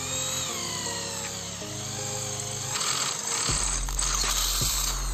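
A DCA AJZ01-6A corded drill boring again into 1.5 mm galvanized steel with a 7.5 mm bit: loud, continuous motor drone with grinding metal contact and shifting pitch as load changes, close up, no voices.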